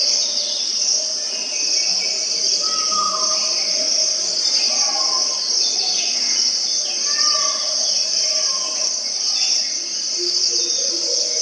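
Ethiopian rainforest ambience has a dense, steady high insect drone with scattered bird calls. It is continuous and moderately loud, with no talking.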